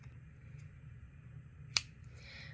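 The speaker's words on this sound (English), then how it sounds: "you can go ahead and grab your scissors and snip off" A single sharp snip of scissors cutting crochet yarn, one brief crisp click standing out against a quiet, low background hum.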